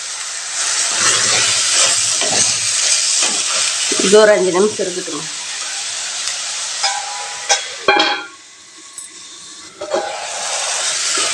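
Chicken for a Pallipalayam-style fry sautés in a pan with a continuous close sizzle and occasional stirring scrapes, while someone speaks briefly over it.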